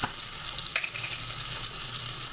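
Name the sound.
ground spices frying in oil for fish curry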